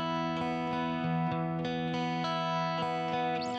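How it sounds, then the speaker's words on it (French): Electric guitar track heard with reverb effect only, a distorted sustained tone with a washy, chorused tail, steady and fairly quiet throughout with repeated soft note attacks. "je vous fais écouter que les reverbs"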